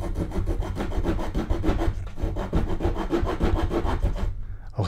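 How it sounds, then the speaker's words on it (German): A small multitool saw rasps through wood in fast, steady back-and-forth strokes, close and continuous, stopping just before the end. "Kommen wir hier schnell zum Sägetest."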